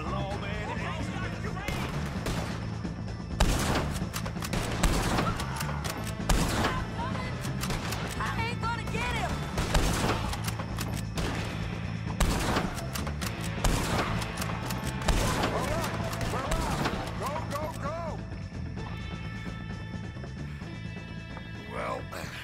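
Gunfight in Red Dead Redemption 2, with repeated loud gunshots cracking in irregular bursts throughout, layered over shouting voices and continuous action noise.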